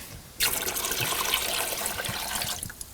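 Dishwater poured out of a basin inside a camper van, a sudden splashing gush that starts abruptly and runs steadily for a couple of seconds before trailing off, close and alone.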